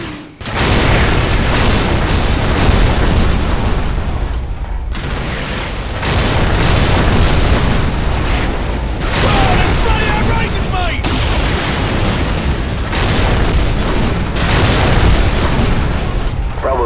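Call of Duty 4 artillery fire mission called in danger close on enemy armor and infantry: a loud, sustained barrage of deep booming explosions rolling one into the next for the whole stretch, with brief dips between blasts.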